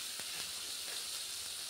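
Fish frying in hot oil, a steady faint hiss and sizzle with a couple of quick pops near the start, heard alone.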